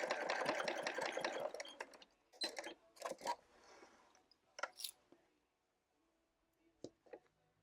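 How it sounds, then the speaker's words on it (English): A sewing machine backstitches along quilt binding, a dense rapid stitching burst for about two seconds, then short separate bursts of stitching and handling sounds, with near silence in between. "you're going to want to backstitch"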